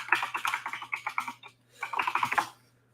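Quick bursts of typing on a computer keyboard, close and crisp, with fast clattering keystrokes in two runs separated by a short pause and a low steady hum beneath.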